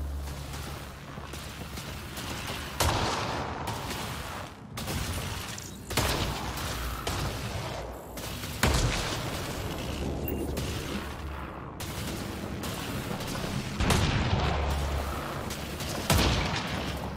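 Rapid bursts of incendiary-round gunfire from a firefight in Mass Effect Andromeda, loud and sustained, with several sharp booming shots standing out every couple of seconds over a dense rattle.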